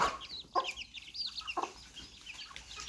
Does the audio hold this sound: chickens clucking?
yes